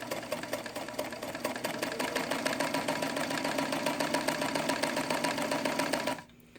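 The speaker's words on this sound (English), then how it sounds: "I'm going to go ahead and sew so you can see how beautifully this machine and how nice and sturdy and steady it goes." A New Home Model 532 sewing machine stitches at a steady, even pace, its rapid needle clatter close and continuous for about six seconds before stopping abruptly.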